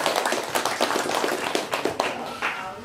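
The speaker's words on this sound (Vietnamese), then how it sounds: "họ xin một tràng pháo tay" Wedding guests clapping at a Vietnamese wedding ceremony at the groom's family home, a burst of dense, steady applause close by that carries on throughout.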